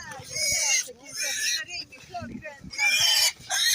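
Landrace pigs grunting and squealing close by at a livestock market, in bursts, while people talk over them.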